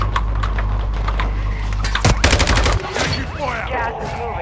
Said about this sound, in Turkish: Fena sıkıyorlar hem de.